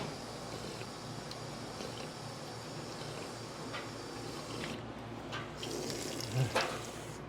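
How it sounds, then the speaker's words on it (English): Water runs steadily from a drinking water fountain, a continuous hissing splash that holds throughout with a slight swell near the end and no talking. "Let's go to the water fountain."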